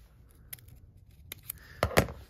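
Scissors cut a paper folder in half for a miniature box, giving a few soft snips and then two louder, crisper cuts close by, with no voices.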